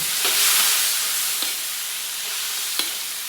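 Chicken with sweetish bagoong stirred in a hot pan, giving a steady hissing sizzle with a few brief scraping strokes of the spoon spaced through it, close and without speech.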